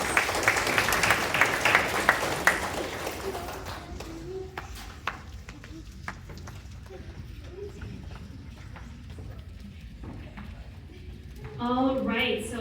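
Applause from a symposium audience after a pitch competition presentation, dense and loud for the first few seconds, then thinning to scattered claps with room noise and a voice briefly speaking near the end.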